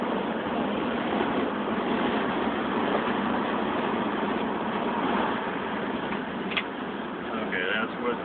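A 1963 Buick Riviera cruising, heard from inside the cabin as a steady broad hum of engine and road noise with a little wind, constant and moderately loud, with a person talking over it.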